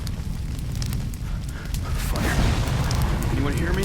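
A gas leak ignites into a sudden whooshing burst of fire in the video game Silent Hill: Downpour, a rumbling roar that swells midway and keeps crackling, with someone shouting over it.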